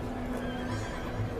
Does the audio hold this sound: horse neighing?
yes